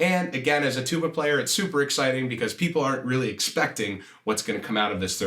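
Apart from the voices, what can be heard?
None of the usual background noises is heard.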